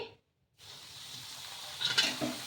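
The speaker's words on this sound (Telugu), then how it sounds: "ఆయిల్ వేడెక్కితేనే మనకి పూరి అనేది బాగా పొంగుతుంది" Puri frying in hot oil at home, made from leftover rice dough: a steady close sizzle and bubbling that builds after a brief silence, with a louder crackling burst near the end.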